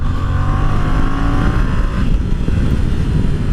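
A Yamaha Tracer 700 motorcycle accelerating hard, its engine note climbing through the revs for about two seconds before easing off into a lower roar, loud and close with wind noise and no talk.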